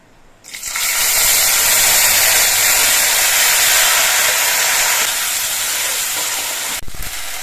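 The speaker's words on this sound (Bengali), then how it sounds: "এবার এর মধ্যে আমি যে মশলাগুলো সব একসঙ্গে পেস্ট করে রেখেছিলাম সেই মশলাটা দিয়ে দিচ্ছি" Ground spice paste hits hot oil with a sudden loud hiss that surges into a sustained, close, roaring sizzle and eases slightly toward the end, with no voices over it.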